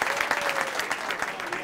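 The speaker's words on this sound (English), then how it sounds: "So big round of applause for our partners." Brief, fairly faint applause from a school gathering honoring partners, scattered claps in a hall with a voice murmuring under them.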